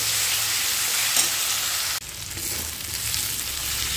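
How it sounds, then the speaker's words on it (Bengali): Ginger garlic paste frying in a pan for paneer do pyaza, a steady loud sizzle with faint stirring scrapes, no voices. "আদা রসুনের কাঁচা গন্ধটা যাওয়া অবধি পর্যন্ত ভালো করে নাড়িয়ে ছাড়িয়ে কষে নিলাম"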